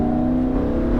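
A Lamborghini Huracan accelerates hard on a track, its loud steady engine drone dominating a brief one-second moment with no talk over it.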